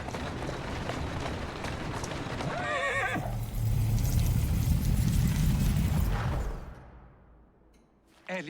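Horse neighing and hoof clip-clops in the Victorian London setting of Assassin's Creed Syndicate, a whinny rising over busy game ambience before a louder rumbling passage that fades out.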